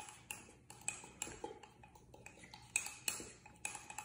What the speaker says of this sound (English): I'm gonna give that a good mix.